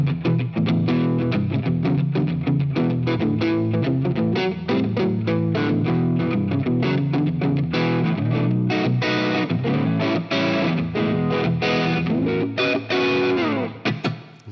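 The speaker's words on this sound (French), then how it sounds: "on va voir ce que ça donne si on passe sur une reverb un petit peu plus, beaucoup plus courte, une plate beaucoup plus courte" Electric guitar played through a Universal Audio UAFX pedal set to a short plate reverb: a run of picked notes and strummed chords with a brief, bright tail, loud and upfront with no talking.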